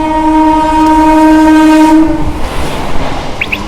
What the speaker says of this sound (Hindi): और ये कौन सी ट्रेन है, पढ़ना थोड़ा सा मुश्किल है क्योंकि ट्रेन बहुत रफ्तार में है।